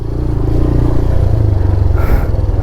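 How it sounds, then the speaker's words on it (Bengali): A TVS Raider 125cc motorcycle rides a rough, stony road, its engine giving a steady close rumble with faint clattering from stones flung by the wheel. "বাইকের চাকায় লেগে পাথরগুলো ছিটকে ছিটকে এসে পায়ে লাগছে"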